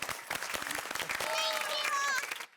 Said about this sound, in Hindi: जोरदार तालियां दीजिए अपने लिए